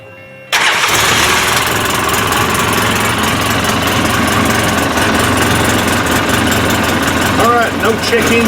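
A Polaris Ranger 800 utility vehicle engine cranks and catches after a brief quiet start, then settles into a loud, steady idle that holds throughout, with a few faint voices near the end.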